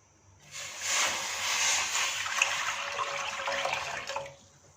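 Water pours into a second pan for chicken vegetable pulao, a steady rushing splash that swells in quickly, holds for about three seconds, then tapers off, close and fairly loud.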